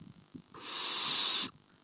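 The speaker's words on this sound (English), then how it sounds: "So this is barn owl snoring." Barn owl snoring call, a single loud, breathy hiss lasting about a second, close and harsh with sharp onset and cutoff, between faint low murmurs.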